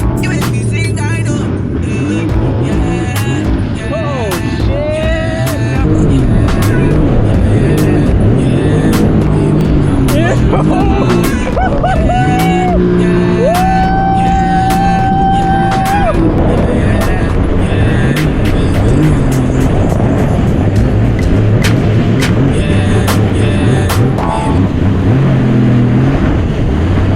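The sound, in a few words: jet ski engine running on the water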